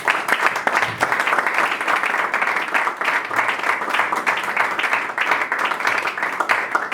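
A church congregation claps together at a service acclaiming the word of God, a dense, steady wash of applause lasting throughout, fairly loud and close with no clear speech over it.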